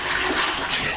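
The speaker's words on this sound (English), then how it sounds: "A little bit of water in there," Water pours into a bucket of thick celadon pottery glaze, giving one brief, steady, close splashing gush.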